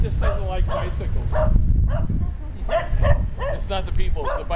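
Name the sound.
dog barking at bicycles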